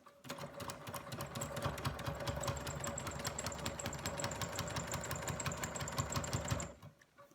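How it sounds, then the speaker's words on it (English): A sewing machine stitches a seam through paper and fabric on a feathered star quilt block, running as a steady rapid mechanical chatter for several seconds before stopping, close and moderately quiet. "I'm going to make a complete seam, sewing directly on the solid line and then off the edge"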